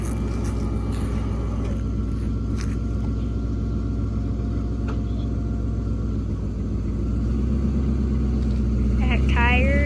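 An old Chevy truck rolling, with a steady low engine-like rumble and grinding throughout, building louder near the end, while a voice talks in the background.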